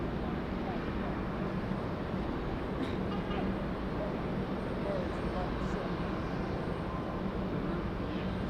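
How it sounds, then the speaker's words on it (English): An Embraer E-175 airliner passing at Raleigh-Durham International Airport, a steady broadband jet roar that holds loud and constant throughout with no clear rise or fade. "Got an E-175 over here."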